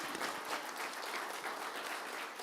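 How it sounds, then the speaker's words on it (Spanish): Church congregation applauds in a steady, dense burst of clapping, fairly faint and distant, with no talk over it. "¿Cuántos le dan un aplauso a Jesús?"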